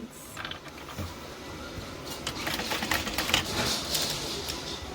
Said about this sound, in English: To our sewing table and stitch those 2 lines.